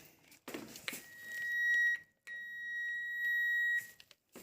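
A handheld cable tracer receiver searches a wall for a signal in a buried cable in a flat, giving two long steady high-pitched beeps close by, split by a short gap, with faint rustling before them.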